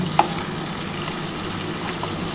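Onions frying in a pan with a little sugar and whole garam masala (cinnamon, cloves, cardamom) produce a constant, fairly loud sizzle, with a single utensil clink near the start and no voices.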